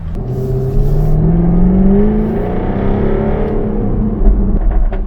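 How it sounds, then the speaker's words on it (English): A 2016 Jaguar F-Type sports car accelerates hard, its engine note climbing steadily in pitch as a loud, continuous rising drone with a brief rumble near the end. "just that acceleration, that capacity for your car to just like this go from 0 to 60"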